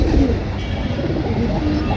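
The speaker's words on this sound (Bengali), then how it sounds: "এই হচ্ছে সাপচিলা কবুতর" Sapchila pigeons coo in low, soft, repeated calls, close to the microphone, over a faint background murmur.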